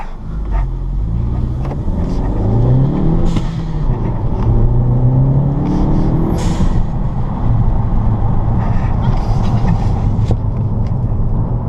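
A 10th gen Honda Civic Si fitted with Skunk2 springs drives on a test run, its engine and road noise a loud steady drone heard from inside, with rising tones as it accelerates through gears.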